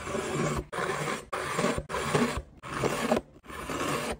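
A cleaver drawn repeatedly across a sharpening stone, six rough, loud rasping strokes in an even rhythm, each separated by a brief pause, close up with no talking.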